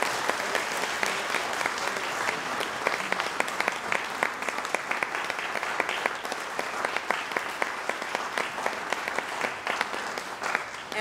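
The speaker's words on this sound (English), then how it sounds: "Get another round of applause for these wonderful musicians." A concert audience gives sustained, dense applause for a student string ensemble, steady and full throughout with no break, with a faint murmur of crowd voices underneath.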